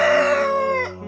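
Rooster crowing in a single loud, close call lasting about a second, a strained rising-then-falling crow heard alone without talk.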